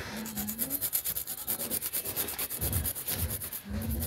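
A rounded-top nail file bevels the edge of coffin-shaped press-on nails, giving steady, close rubbing strokes that repeat under faint background music.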